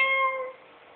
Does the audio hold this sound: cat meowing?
yes